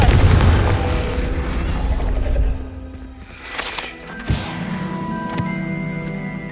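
The Confringo fire blast spell in the video game Hogwarts Legacy: a loud, deep booming blast with rumbling noise that dips and then ends in a second, sharper burst and fading tail.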